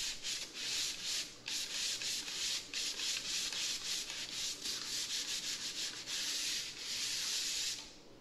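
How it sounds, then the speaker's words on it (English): Sandpaper rubs over an outside plaster corner in steady back-and-forth strokes, a close, hissing scratch repeated continuously with brief pauses and no talk. "The sandpaper cuts through better."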